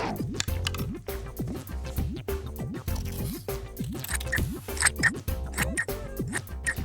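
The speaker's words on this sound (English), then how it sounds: "Now we need to cut this shape out, but be careful because scissors are sharp." Scissors snipping through material to cut out a shape, a rapid series of close crisp cuts in an irregular rhythm for several seconds, with no talking.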